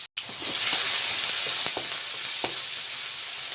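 Sliced onion and chillies sauté in hot oil for a snake gourd theeyal, giving a continuous close sizzle with a few light stirring taps and scrapes and no talking.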